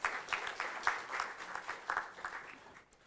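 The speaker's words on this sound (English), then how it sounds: "let's give him a round of applause again" Audience applause at an international conference on religion, culture and governance, a steady patter of many hands at moderate distance, swelling and fading slightly over three seconds without talk.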